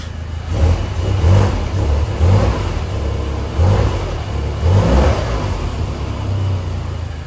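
A Mini car left abandoned runs roughly, its mid-pitched engine rising and falling in several repeated revs over a steady idle, loud and close with no talking.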